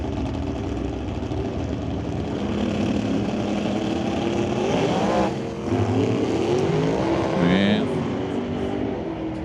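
A drag race car at an NHRA Summit ET Series bracket final launches hard enough to lift its front wheels, a loud sustained engine roar that rises in pitch as it pulls away, under an announcer's commentary.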